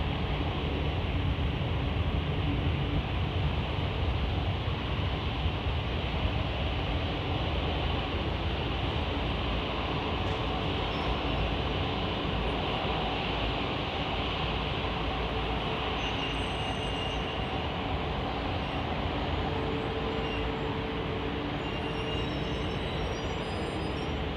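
An aircraft departing London Heathrow Airport produces a continuous, loud, broad roar that stays constant throughout, with no pauses or clear peaks.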